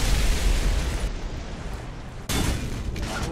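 Explosions from AH-1G helicopter fire in a video game: a continuous loud, rumbling roar of blasts that cuts off sharply and then resumes with another heavy burst, close and dense, with no voices.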